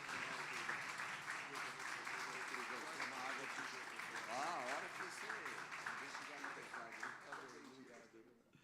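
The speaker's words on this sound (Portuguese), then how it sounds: "Dá uma forte salva de palmas para o Senhor aí." Congregation clapping in church during a Sunday service, continuous applause running beneath a voice that talks and sings over it, fading toward the end.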